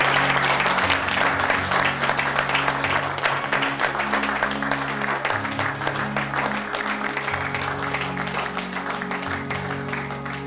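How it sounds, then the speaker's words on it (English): Sustained, dense applause from an audience after an observatory plaque is unveiled, steady and loud throughout with a low music-like hum underneath. "Big round of applause."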